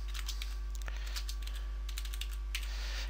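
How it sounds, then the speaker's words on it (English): Typing on a computer keyboard while planning an essay in mind-mapping software: soft, rapid key clicks in irregular bursts, close but faint over a steady low hum, with no talk. "So let's type in there,"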